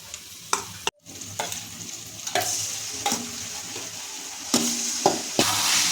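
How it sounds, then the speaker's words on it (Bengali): Marinated chicken is added to a pan of lightly fried onion and chilli, giving a steady sizzle broken by repeated sharp clanks and scrapes of stirring, close and fairly loud. "এর মধ্যে আমি এবার দিয়ে দেবো ম্যারিনেট করা চিকেন।"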